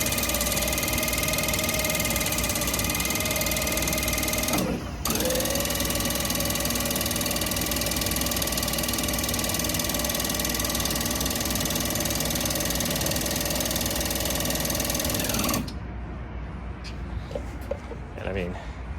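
A Toyota 8BWS13 electric walk-behind pallet stacker runs with a loud, steady electric whine and hum, broken by a brief dropout, then shifts to a quieter rattling tone near the end.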